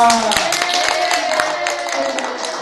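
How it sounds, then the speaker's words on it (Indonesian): A classroom of students clapping for a classmate, a short burst of scattered hand claps heard close up beneath a sustained tonal hum, with some voices mixed in. "Tepuk tangan untuk Eva."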